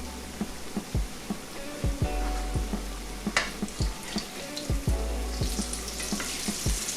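Falafel patties frying in vegetable oil, a steady soft sizzle with repeated low thumps and scrapes close by, no talking.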